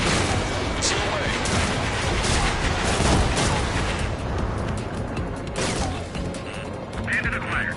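Missile launch in the combat flight game Ace Combat 7, a dense roaring, crackling burst of launch and jet noise that stays loud throughout, with radio chatter layered over it.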